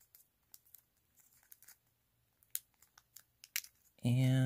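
Paper being folded for an origami crane, with soft creasing and crinkling rustles in short bursts, then a voice starts talking at the end.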